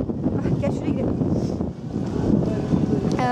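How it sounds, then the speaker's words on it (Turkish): Strong wind buffets the microphone in a constant low roar, with gusty rumbling throughout and faint voices underneath. "Rüzgar çok."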